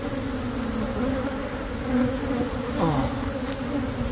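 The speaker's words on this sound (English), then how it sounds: "Look at all the bees." A steady, close buzzing of bees at a giant beehive fills the air, droning continuously with slight shifts in pitch; a voice briefly murmurs.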